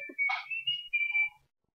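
Whistled tune from an Old Spice commercial, a short melodic phrase of a few clear held notes, close and moderately loud, alone with no talking.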